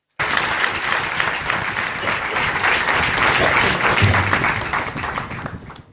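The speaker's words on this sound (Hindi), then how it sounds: "सब लोग प्रभु के लिए तालियां बजाएं।" An audience at a Christian sermon breaks into sustained applause, a thick, even wash of clapping lasting several seconds before tapering away.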